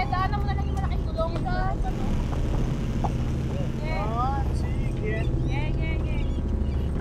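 A motorized tricycle grinds along a rough, rocky riverside track, its engine droning loud and steady throughout while several people shout and talk over it.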